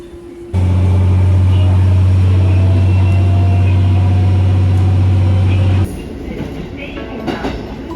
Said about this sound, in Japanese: 1両のディーゼルカーです。